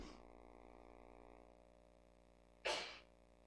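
A single sharp sneeze bursts out near the end, loud and close, after a stretch of quiet room tone during a home Good Friday fellowship gathering.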